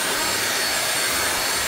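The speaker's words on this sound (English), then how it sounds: "I'm going to vacuum down here now." A household vacuum cleaner runs on a staircase with a loud, constant whooshing roar, steady and close throughout the short stretch.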